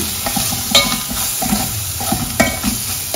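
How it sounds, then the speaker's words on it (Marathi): Masala of spices and salt stir-fried in a pan for a mahua fruit bhaji, a steady close sizzle with repeated scraping strokes of a spoon against the pan. "मसाला चांगला परतून घ्यायचा आहे."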